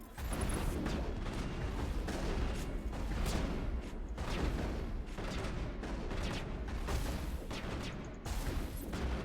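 Gunfire from a sniper rifle in the Mass Effect 2 video game, part of a loud, dense barrage of shots and booming impacts that continues almost without pause.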